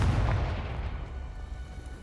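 A Confringo fire spell explodes in the video game Hogwarts Legacy, a low booming blast that opens loud and then fades into a rumbling decay.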